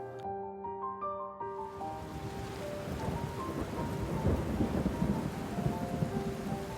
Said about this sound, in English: I woke up to a loud thunder crack.